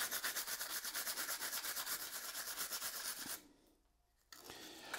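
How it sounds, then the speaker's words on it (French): Brisk, rhythmic scrubbing of a Gardena 500 robot lawn mower's golden ring to remove soil, a steady close rubbing that stops briefly before resuming. "Bien frotter pour pas qu'il y ait de terre sur l'anneau doré."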